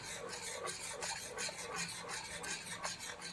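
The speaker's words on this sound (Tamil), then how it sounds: "இதை கரண்டியாலே நல்லா மசிச்சு விட்டுறோம்" Wet, rasping scrapes of a ladle mashing cooked tomatoes, steady and close, with repeated rubbing strokes and no talking.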